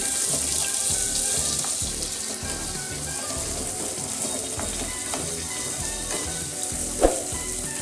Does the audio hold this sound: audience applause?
no